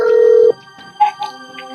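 A phone signals an incoming call while a voicemail is being left: one steady electronic tone holds for half a second and then breaks off, followed by faint short tonal blips, with no talking.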